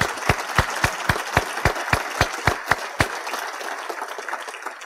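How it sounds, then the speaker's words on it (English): A single pair of hands claps about a dozen times in an even rhythm, close and loud. The clapping stops after about three seconds and only quiet room tone follows, with no crowd heard. "I think that deserves a round of applause"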